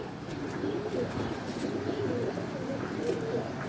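Pigeons coo steadily in a loft, several low rolling calls overlapping in a continuous close murmur with a faint background hiss and no clear speech.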